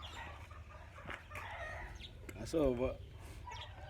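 Many chickens clucking and squawking at feeding time, with a loud burst of calls near the middle, while someone speaks briefly over the flock.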